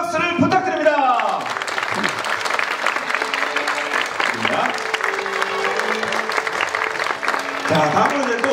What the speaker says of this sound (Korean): 여러분 다시 한번 페이커 선수에게 큰 축하의 박수를 부탁드립니다